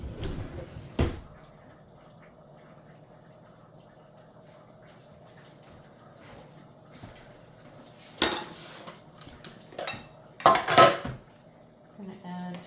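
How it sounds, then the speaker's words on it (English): Metal cutlery and utensils clatter in a home kitchen while cottage pie is being made, with a few sharp clinks early and louder bursts of rattling toward the end, heard alone without talk. "I'm just going to grab a knife."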